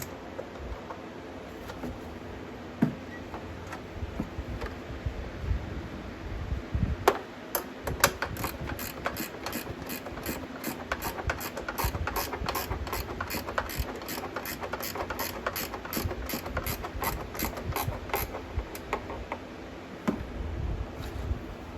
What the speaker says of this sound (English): Luckily I have a ratcheting wrench. I love ratcheting wrenches.